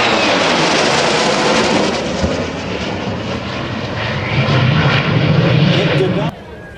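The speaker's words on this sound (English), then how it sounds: "Inbound from the right. The engine, a J57 turbo jet engine." An F-100F Super Sabre jet powered by a J57 turbojet flies past at an air show, a loud sustained roar that swells and fades before cutting down sharply near the end, with an announcer talking over it.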